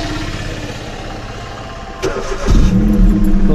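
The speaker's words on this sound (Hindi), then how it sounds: "इंजन स्टार्ट हो चुका है।" A car engine, likely a large ram-style motor with a noisy exhaust, cranks and catches after a steady blower hum, then settles into a loud, rough idle close by.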